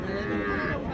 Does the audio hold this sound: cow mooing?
yes